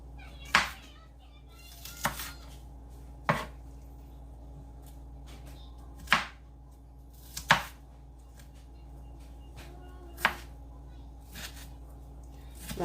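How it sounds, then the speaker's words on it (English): A knife chops onions for tacos on a cutting board, several sharp, separate thuds spaced irregularly over a quiet background hum, close and fairly loud. "Not gonna try to get the onions too small, but that's good enough right there for those."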